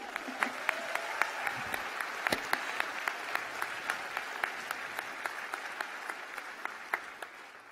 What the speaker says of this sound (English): Give yourself a round of applause already.